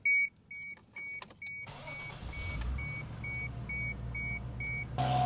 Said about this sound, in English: now let's go ahead and start the car and get the AC on